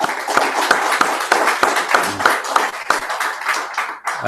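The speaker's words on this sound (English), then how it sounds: "let's just give a round of applause to the joint authors" A small audience at a book launch claps in distinct, fairly regular sharp strikes, close and loud, like a modest group applauding with individual hand claps standing out.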